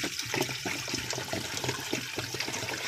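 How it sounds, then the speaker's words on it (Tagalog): Water runs steadily into a pressure cooker holding garbanzos, with oil and sesame seeds already in the pot, a continuous gushing, splashing pour at close range with no talk over it. "So, lagyan natin ng tubig."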